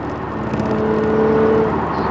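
A loud running car engine with a steady supercharger whine rising above the motor's roar, peaking around 4,300 RPM, close and continuous.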